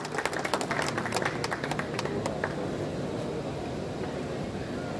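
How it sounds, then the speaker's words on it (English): An audience applauds at a formal gathering of denim manufacturers, with a short scattered patter of claps that quickly thins and fades into room noise. "A round of applause, please."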